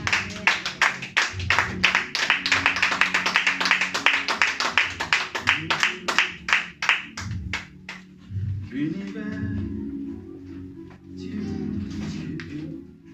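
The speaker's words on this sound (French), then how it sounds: "Est-ce que tu peux donner une acclamation à ton Jésus?" Church congregation claps in acclamation, a dense run of sharp hand claps for about eight seconds that thins out and stops, followed by murmuring voices and a quieter stretch with some talk.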